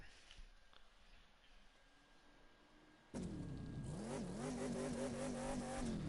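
A Ford GT500 in The Crew 2 video game roars loudly partway through, its engine revving steadily with rising and falling pitch after a quieter stretch of road noise.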